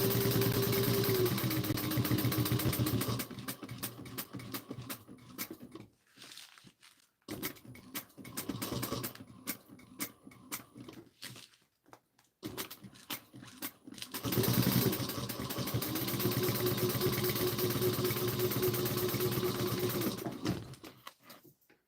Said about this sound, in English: And then I'm going to sew 1/8 of an inch.